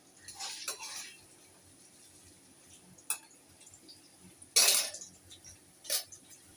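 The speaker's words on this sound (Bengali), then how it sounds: "আমি এবার পনিরটা এটার মধ্যে তুলে নিচ্ছি" Lightly fried paneer lifted from a pan into a dish for paneer bhapa, with several sharp metal utensil clinks and scrapes spaced apart, close and fairly quiet.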